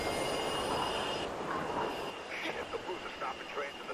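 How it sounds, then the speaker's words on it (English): A train in a video game approaches with loud squealing wheels and a rumbling rush that fades slightly, with people talking over it. "There's a train coming behind you."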